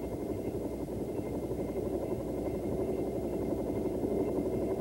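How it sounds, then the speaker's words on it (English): A Bell AH-1 helicopter hovering as it lifts off, its engine and rotor making a steady droning buzz at moderate distance that continues without pause. "As the helicopter breaks ground, minor corrections with the cyclic are required for a stabilized vertical ascent"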